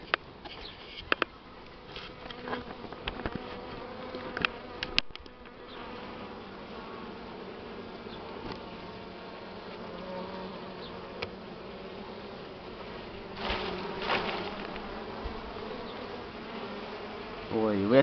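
Buckfast honey bees buzz steadily at an open hive during a honey harvest, a dense continuous drone with occasional louder passes near the microphone and a few brief knocks early on.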